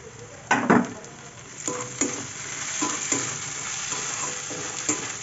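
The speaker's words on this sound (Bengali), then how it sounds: "গাজরটা দিয়ে আবার একটু ভাজা ভাজা করবো" Carrot fries in a pan with oil for chira pulao, a steady sizzle broken by several scraping stirs of a spatula against the pan, close and fairly loud.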